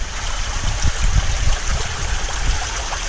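Water trickles and splashes steadily through a filter mat in an aquarium shower tower filtration setup, a close, continuous wet patter with uneven low splashes and no talking.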